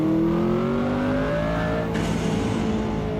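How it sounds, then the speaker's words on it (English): A McLaren GTR race car engine in Assetto Corsa revs hard and close, a loud continuous roar with pitch shifting through the gears and a sudden change in tone near the end, no voices. "Now listen to the sound of the car, man."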